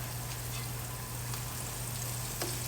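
Red snapper pieces frying in a shallow layer of grease, a steady close crackling sizzle with scattered pops over a low hum, with no talking.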